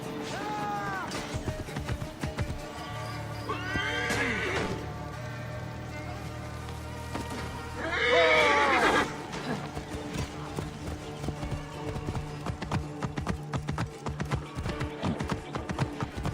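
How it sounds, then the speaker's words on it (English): Horse hooves clip-clopping on the ground in the Assassin's Creed Origins video game, with a couple of loud whinnies breaking in over the rhythmic steps and a soft rain-like ambience underneath. "Find a horse."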